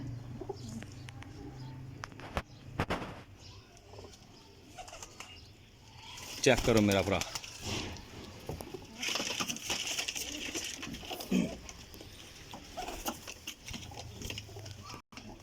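Teddy pigeons of the Pipla breed coo and flutter close by, with a burst of wing flapping midway, while someone talks over the birds.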